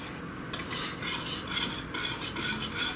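A whisk stirs premixed moisturizer and perfume into homemade lotion, producing a continuous wet swishing with rhythmic strokes and light metallic scrapes, close and steady throughout.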